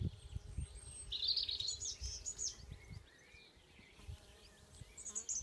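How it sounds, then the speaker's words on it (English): Faint bee buzzing drifts in the background of a spring garden alongside scattered bird chirps and twitters, with low rumbling noise underneath; no voices. "the bees are out as well"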